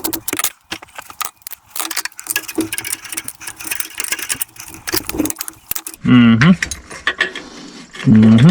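Wrench tightening the battery terminal connection on a lawn mower, a series of close metallic clicks and ratcheting scrapes, followed by a few loud squeaking strains near the end.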